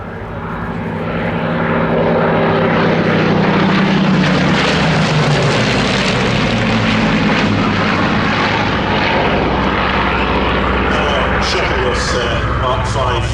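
A Supermarine Seafire Mk XVII propeller fighter flies a display at a naval air show, its loud piston engine drone swelling and holding steady throughout, with faint crowd noise around it.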